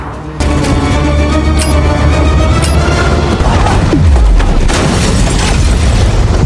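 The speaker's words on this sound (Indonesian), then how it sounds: "tank yang sudah dipasang bom sebelumnya oleh Jean akhirnya meledak" A sudden loud boom bursts in and rolls on as a sustained, rumbling explosion with debris-like crackle, fading into a deep low rumble: a bomb-rigged tank exploding in a film.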